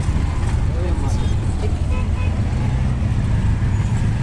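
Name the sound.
heavy road traffic on OMR road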